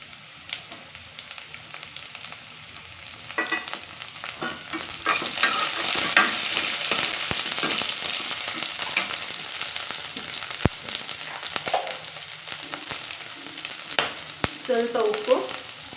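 Chopped green chillies tossed into a hot pan for carrot rice crackle into a steady sizzle, with repeated spatula stirs and scrapes and a few sharp knocks against the pan.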